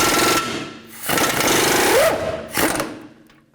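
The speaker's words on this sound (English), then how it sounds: "I'm going to use an 18mm wrench and an 18mm socket on the front." A ratchet wrench and socket on an 18mm suspension nut of a 2011-2014 Chrysler 200 rear spring assembly, heard as close, rapid clicking bursts in three spurts separated by brief pauses.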